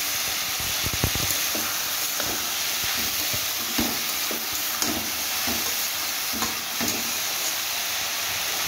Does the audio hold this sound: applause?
no